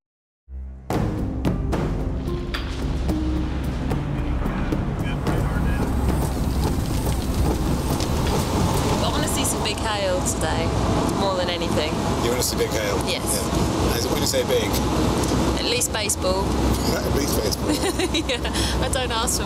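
Heavy thunderstorm rain near a tornado-warned storm in Kansas, a dense continuous roar of rain with rumbling low-end wash, loud and close, following a sudden onset.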